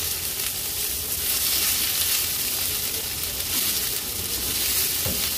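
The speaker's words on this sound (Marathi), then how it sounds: "फ्लेमवर कारल्याची एक बाजू व्यवस्थित तळून घ्यायची आहे." Bitter gourd (karela) frying in a pan on the flame, a steady broad sizzle and hiss continuing throughout, close and even in level with no talk.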